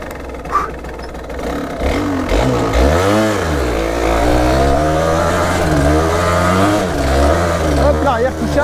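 A Yamaha DTR 125 two-stroke trail bike revs hard on a steep rooty climb, its loud close engine note rising and falling in pitch through repeated throttle surges, with no pauses.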